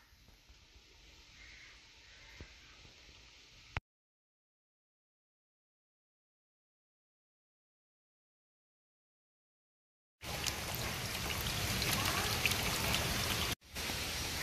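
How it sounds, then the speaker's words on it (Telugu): Heavy rain pours down steadily outdoors near a wood cooking fire, broken by a long silent gap before the downpour returns louder and closer. "ఎందుకంటే ఫుల్గా వర్షం అయితే పడుతుందండి"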